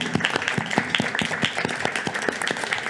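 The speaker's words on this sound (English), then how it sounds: "And this round of applause from us on the stage is for all of you." People on a stage give a round of applause, with sharp, distinct hand claps in a fairly sparse, uneven rhythm that sounds like a small group clapping close by.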